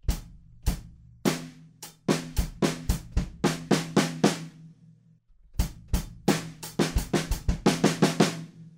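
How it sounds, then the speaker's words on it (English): Drum kit groove with snare and kick hits in a steady pattern, a brief pause, then the beat returns. Quick snare fills of four sixteenth notes lead into the chorus, played loud and close with no talk. "it's just those 4/16 on the snare drum again"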